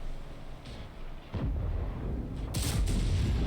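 Booming tank cannon fire in World of Tanks, a heavy blast arriving about a third of the way in, followed by loud rumbling battle noise and another sharp report near the end.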